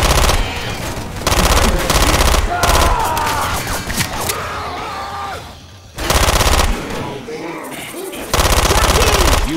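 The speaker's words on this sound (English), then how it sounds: "You are shooting me." Loud bursts of automatic machine gun fire from the video game Left 4 Dead 2, several long sustained volleys with short gaps, with game sound effects and voices in the lulls between them.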